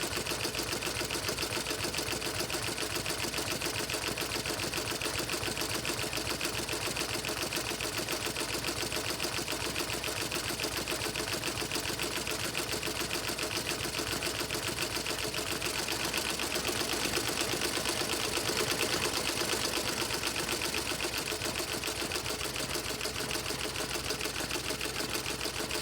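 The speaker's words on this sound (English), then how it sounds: "Even though I'm running my machine at 750, because this is a wide satin stitch," An embroidery sewing machine running at 750 stitches per minute sews a wide satin stitch on a sock, giving a steady, fast mechanical chatter that stays close and even throughout with no voices.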